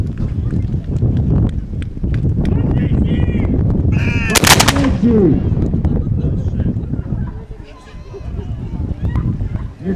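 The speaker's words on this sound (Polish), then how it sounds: "w stronę niewinnej ludności padają następne strzały" Shots fired toward fleeing civilians during a staged historical battle reenactment at Stary Ochędzyn, heard as loud bursts over a constant crowd and wind rumble, with voices throughout.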